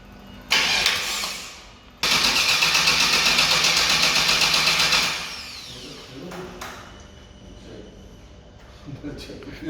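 A vintage Chevrolet V8 truck engine cranks with a rhythmic starter chug, pauses, cranks again in a pulsing burst for a few seconds, then settles to a rougher idle while voices talk nearby.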